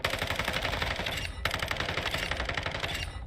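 Rapid sustained SMG gunfire in Call of Duty DMZ, a dense automatic burst with a tiny break partway through, then continuing fire close and loud.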